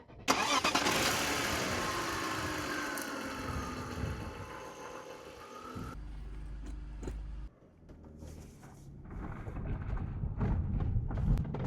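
A 25-year-old BMW E39 530i Touring estate with 187,000 miles cranks and fires up, the starter whirring into a loud catch, then the engine settles into a steady idle and rises slightly at the end.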